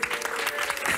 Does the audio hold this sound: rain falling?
no